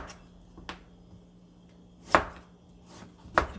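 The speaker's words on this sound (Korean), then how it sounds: "썰어주세요." A knife cuts through beets for pickling on a cutting board, giving three or four separate sharp chops spaced irregularly, close and clear against a quiet background.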